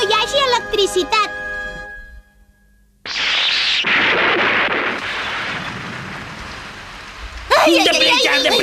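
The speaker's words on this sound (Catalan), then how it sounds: "Entrem a casa, com plou!" Heavy rain pours down in an animated cartoon scene, a dense steady hiss that starts abruptly and keeps going for several seconds, framed by lively character voices before and after.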